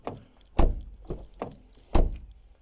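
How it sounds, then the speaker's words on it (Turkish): A Peugeot 301 diesel sedan's doors shut several times, giving a few solid low thunks with some lighter latch clicks between, close by and with no talk. "Kapı seslerimiz bu şekilde."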